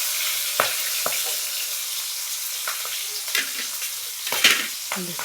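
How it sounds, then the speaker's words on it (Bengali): Chopped tomato with green chili and cumin sizzles steadily in hot oil in a pan, a continuous close frying hiss broken by a few scraping stirs of a spoon, with no talking. "ভাজা হচ্ছে।"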